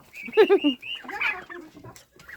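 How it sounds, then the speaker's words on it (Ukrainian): A farmyard hen gives a quick run of close, loud clucks and squawks, then quieter rustling and faint noises follow. "Тут Курка!"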